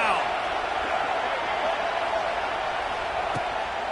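Stadium crowd at a college football game on Saban Field during a third down, a broad steady roar filling the background throughout, with a commentator talking over it.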